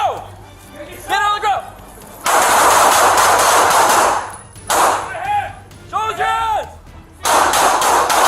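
Gunfire crackles in long, loud bursts during a brief police shootout on East Pico Street, alternating with stretches of raised voices.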